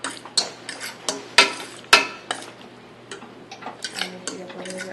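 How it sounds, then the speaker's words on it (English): Onions are stir fried in a pan, with a utensil clinking and scraping against the metal in irregular taps over a quiet background. "So you just stir fry your onions."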